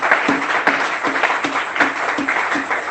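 A church congregation applauds and cheers for the king, with dense, loud clapping in a steady rhythmic pattern throughout, close and continuous with a bit of voice mixed in.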